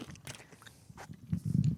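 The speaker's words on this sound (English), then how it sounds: "I'm just chewing into the microphone." Wet, crunchy chewing of food right against the microphone, irregular bites and mouth noises that grow louder and denser toward the end, with no talking.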